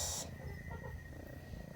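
A sulking cat purring with a soft, steady low rumble close by. A brief brighter noise sits at the very start.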